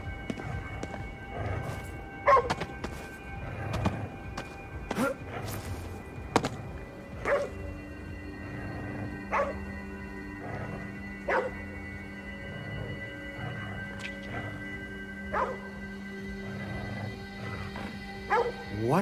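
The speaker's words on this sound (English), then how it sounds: "What's he barking at?" A dog barks in scattered sharp bursts over a steady electronic hum and background music, with footsteps and occasional whimpers between barks.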